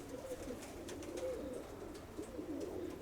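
A female pigeon coos in low, rolling phrases repeated over a few seconds, soft and close, with faint background noise and no talking.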